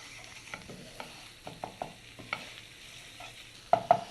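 A spoon stirs flour into butter and garlic in a pan, making scattered scraping and tapping strokes over a soft sizzle, ending with a couple of louder knocks.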